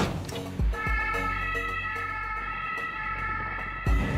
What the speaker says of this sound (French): À bord de cette ambulance, qui s'apprête à quitter le parking, Marion et son coéquipier, Florian.